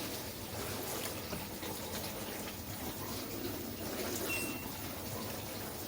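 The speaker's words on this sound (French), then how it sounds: "Toujours alimentation pompe de cyclage." An LG dishwasher in test mode runs its circulation pump, giving a steady, even wash of water swishing and churning inside the tub, moderately quiet and unbroken throughout with no talk.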